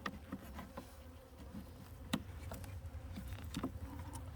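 Honeybees massing at a hive entrance in cold December weather, a steady low buzzing hum close to the box with scattered sharp clicks and ticks from individual bees.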